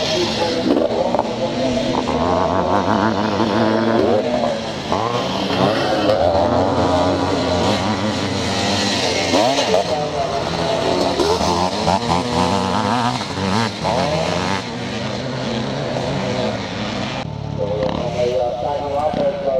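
Classic scramble motorcycles, a Husqvarna among them, race at a charity scramble in Northern Ireland, engines snarling and revving continuously at mid distance beneath a commentator talking throughout.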